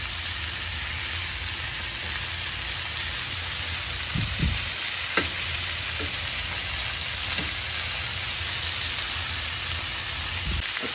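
Chicken browning in a frying pan just after being turned, giving a steady rain-like sizzle throughout with a few soft knocks and clicks from handling.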